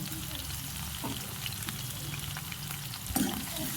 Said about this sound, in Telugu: వీటన్నిటిని కలిపి కాసేపు వేయించుకోవాలి.